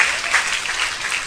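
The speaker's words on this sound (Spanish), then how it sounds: "¡Dale un aplauso al Rey!" A church congregation applauds during a sermon, a brief burst of loud, close, continuous clapping.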